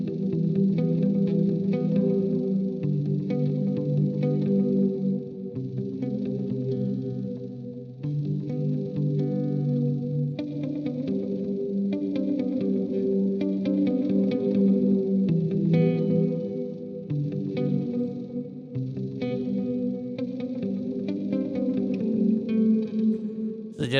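Palm-muted electric guitar run through a Walrus Audio Slötvå multi-texture reverb pedal, chugging rhythmic notes washed in a long shimmering reverb tail, loud and continuous with brief gaps, played alone without talking.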